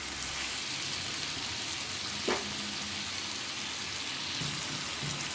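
Chicken frying in masala for Kolhapuri chicken, a steady sizzling crackle throughout with a short scrape of stirring midway, no voices.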